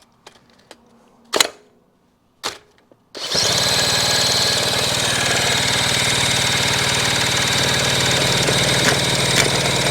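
A couple of sharp kick or crank attempts on a motorcycle are followed by the engine catching and running loudly and unevenly, close up with a rough, sputtering idle throughout the rest; no speech.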